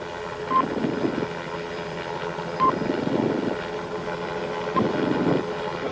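Police helicopter hovering overhead, a steady rotor and engine drone with rhythmic pulsing and wind buffeting against the microphone, a few faint electronic beeps breaking through.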